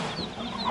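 Chickens running loose around a Cuban hotel cluck softly in short, close bursts against a busy outdoor background.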